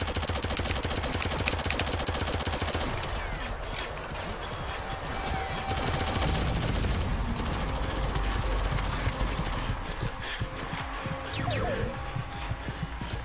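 Sustained rapid machine gun fire from the mobile shooter Shadowgun Legends rattles nonstop for the whole stretch, loud and dense, with scattered impacts mixed into the chaotic combat noise and no voices.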